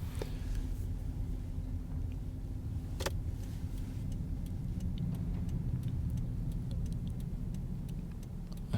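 City street traffic in downtown Norwich, Connecticut, heard from inside a moving car: a steady low rumble of road and engine noise runs throughout, with faint ticks on top and one brief sharper sound near the middle.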